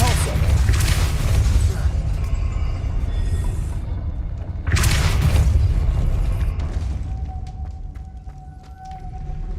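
A Depulso spell cast in the video game Hogwarts Legacy, two loud booming bursts a few seconds apart, each with a sharp crackling onset that decays into rumbling game ambience, ending with a faint steady tone.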